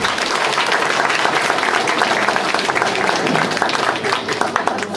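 An audience at a sea shanty festival in Włoszczowa breaks into loud, sustained applause, a thick even roar of many hands filling the hall, with faint voices mixed in.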